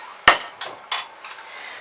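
A metal cooking pan for beef stew is pulled out and handled in a kitchen, with a sharp clang followed by a few lighter knocks and scrapes.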